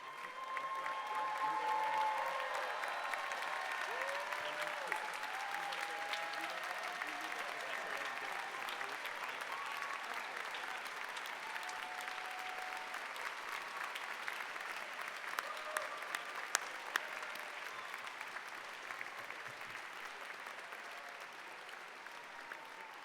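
Sustained applause from a large graduation-ceremony crowd honoring the class of 2024, dense steady clapping swelling at the start and continuing unbroken with scattered louder claps, some faint voices in the crowd.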